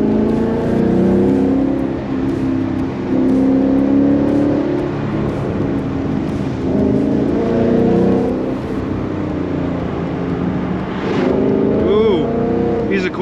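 A Ford Mustang engine drones and revs along the winding Tail of the Dragon mountain road, rising and falling through the turns with a shifting tonal hum, and a driver talks over it.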